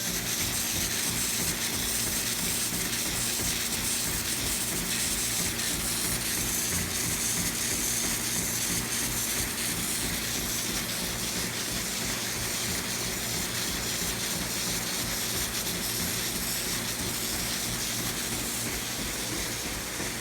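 A dairy milking machine draws milk through its lines toward the collection jar with a steady, continuous whooshing, gushing suction and faint mechanical ticking, close and even throughout with no talking.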